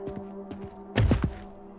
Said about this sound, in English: Why do I make such a loud thud when I make the shortest of drops?